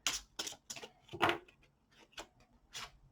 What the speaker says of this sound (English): Let's shuffle and see what comes out for you.